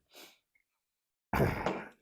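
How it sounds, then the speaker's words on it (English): A sharp, breathy burst of a sneeze erupts after a brief quiet intake, loud and close, preceded by a faint breath. "I'm going to sneeze again."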